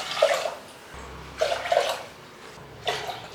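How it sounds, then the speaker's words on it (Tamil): Water poured into a pressure cooker while making coconut rice payasam, heard as three short, close splashing pours separated by brief pauses, with no talking. "இப்போ தண்ணி சேர்த்துடலாங்க."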